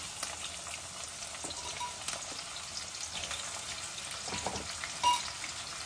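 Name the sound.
onions frying in oil with spluttering mustard seeds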